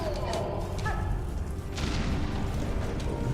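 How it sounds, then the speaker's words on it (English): Explosion in the video game Hollow Knight: Silksong, a dense low boom and rumble filling the mix, sustained and loud with a second swell midway. "Explosion."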